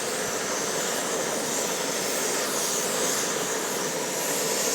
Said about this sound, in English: I'm just going to go ahead and crank them all the way